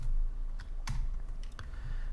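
Computer keyboard typing while writing JavaScript code, a short burst of scattered, fairly faint clicks and taps at close range with no speech.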